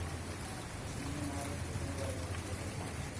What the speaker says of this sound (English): morning we had a very good rain in our balcony